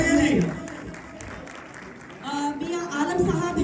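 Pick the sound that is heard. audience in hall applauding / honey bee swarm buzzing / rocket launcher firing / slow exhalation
audience in hall applauding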